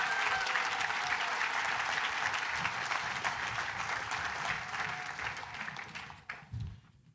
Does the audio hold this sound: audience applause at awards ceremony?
yes